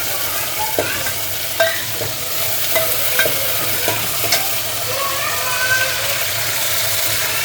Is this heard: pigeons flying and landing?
no